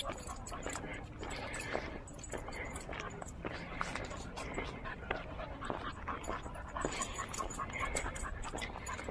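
A husky pants rapidly and steadily nearby in a park, quick breathy huffs continuing throughout with faint outdoor background noise.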